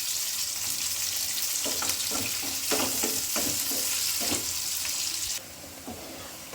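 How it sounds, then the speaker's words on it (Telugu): Onions frying in oil on a high flame for veg dum biryani, a steady loud sizzle close by, with a few scraping stir strokes over it before the hiss drops slightly near the end. "నేనైతే ఆయిల్ వేసేసాను, దాంట్లోకి ఆనియన్స్ వేసేసుకొని హై ఫ్లేమ్లో పెట్టేసుకొని అయితే మనం వీటిని ఫ్రైడ్ ఆనియన్స్ చేసుకోవాలి."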